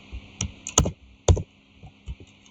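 A few separate key presses on a computer keyboard, sharp clicks with pauses between them, close and alone in a quiet room.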